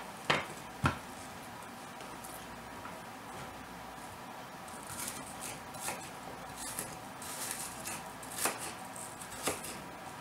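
Knife chopping a good-sized onion on a cutting board for homemade meatloaf, a series of crisp irregular taps near and fairly quiet, with pauses between cuts.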